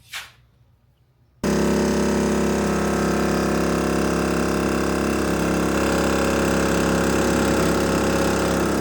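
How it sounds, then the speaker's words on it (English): A Morflate air compressor runs steadily and loud from about 1.4 s onward, droning without a break after a short quiet start while it inflates an off-road beadlock tire on a 6th-gen 4Runner wheel. "Time to air up, and I got my handy dandy Morphlate compressor here with one single hose."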